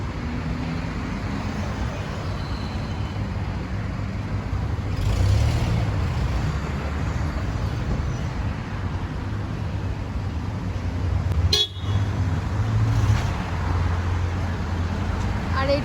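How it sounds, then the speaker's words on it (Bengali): Night street traffic on the road outside a City Max hotel in Bur Dubai, a steady roar of passing cars with a brief sharp horn-like burst near the middle, with voices talking over it. "আর এটা হচ্ছে হোটেলের সামনের রাস্তা। দেখো রাত্রেবেলা দুবাই সিটি।"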